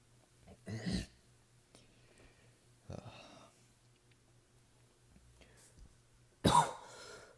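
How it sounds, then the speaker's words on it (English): A person clears their throat in a few short, rough bursts spaced across a quiet room, the last one loudest and closest, with a faint steady hum beneath. "Sorry, I have to clear my throat."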